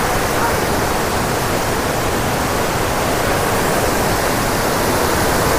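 Loud, steady roar of water rushing through gate 60 of a dam, a constant close wash of flowing water with no pause.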